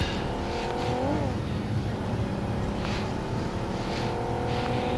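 A car engine drives in the battle-royale video game PUBG, a steady close motor drone with a brief rising rev in the first second, and no talking.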